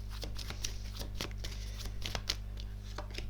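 Tarot cards riffled and snapped down one after another in a steady run of crisp, papery flicks over a low constant hum, close and moderately loud, with no voices.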